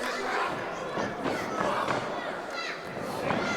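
A crowd at a UK pro wrestling match between Delphine and Ricado Borg keeps up a dense, steady roar of cheering and chatter, with commentators talking over it.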